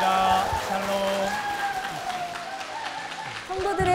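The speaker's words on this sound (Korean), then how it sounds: "우리 목사님과 선교회를 위해서 다시 한번 힘찬 박수 부탁드리겠습니다" A church congregation applauds for its pastor and mission society, a crowd's clapping rising under a melodic musical backing and a voice, fairly close and moderately loud.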